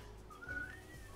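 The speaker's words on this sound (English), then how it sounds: "Nick told you to stop whistling" Brief whistling over Fortnite voice chat, a single thin rising note that swells and fades within about a second, faint against low background hum.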